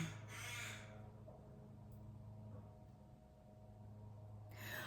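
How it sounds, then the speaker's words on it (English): Crows caw outside, a couple of harsh calls at the start and another at the end, faint and distant over a low steady hum. "They're the crows squawking outside,"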